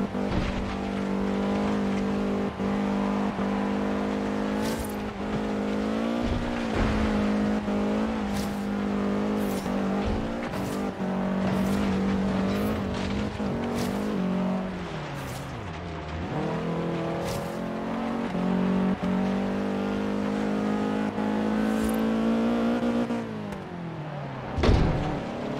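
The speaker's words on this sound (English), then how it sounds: "Yeah, in fact, the engine is just sputtering right now." Damaged Mercedes C63 AMG engine in Forza Horizon 3 sputtering and revving roughly, a loud continuous drone with uneven stutters and dips and a few sharp knocks, with no talking.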